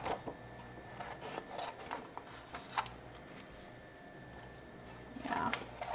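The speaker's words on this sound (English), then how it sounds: "I will quickly use scissors and separate these." Scissors snip and rasp through material in quick, close strokes, with rubbing and handling noises around them and no talking.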